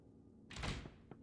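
A door unlocks and swings open in the Pocket Mirror video game, a single short mechanical clunk followed by a soft thud, clear against a quiet background.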